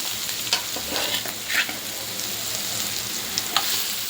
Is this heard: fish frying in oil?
yes